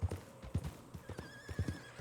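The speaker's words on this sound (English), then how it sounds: "on my high horse." Horse hooves clip-clop in the video game Red Dead Redemption 2, with heavy, uneven hoofbeats close by and a clear whinny rising over them partway through.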